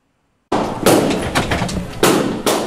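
Balloons are popped to simulate gunshots during active shooter survival training at Oakland University, giving a few sharp, loud bangs after brief silence, each with a short rattling tail and echo in an indoor room.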